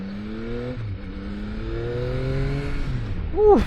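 A Yamaha XSR900 GP motorcycle accelerates hard in sport mode. The engine tone climbs steadily through a couple of gear changes, loud and close, and a short excited shout comes right at the end.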